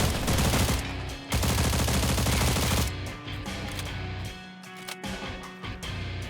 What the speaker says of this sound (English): this gun is so uncontrollable